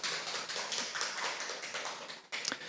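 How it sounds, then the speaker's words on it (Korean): An audience claps together at a lecture, a dense burst of hand claps that stays loud and steady for a couple of seconds before a few last sharp claps. "박수 한번."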